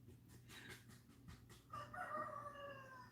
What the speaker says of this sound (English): I knew the cock-a-doodle-doo was coming.